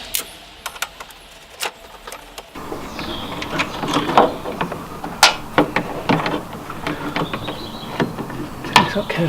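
Close-up clicks, scrapes and small metallic taps as screws are worked loose around a Mazda RX-7 headlight, irregular and fairly faint against a quiet garage background.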